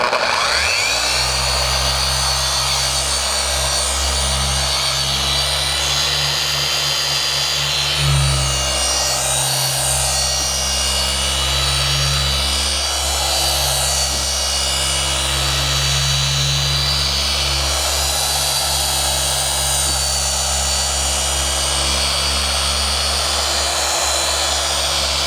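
A 5-inch Mark II polisher spins steadily against a car windshield being prepped for protection film, a loud continuous whirring drone with slight shifts in pitch as it presses and moves across the glass.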